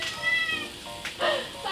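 A pet cat meows at a spice packet in a kitchen, giving two drawn-out, close meows separated by a short pause.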